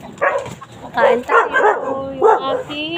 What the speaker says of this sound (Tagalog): Ang gugulo ng aking mga aso.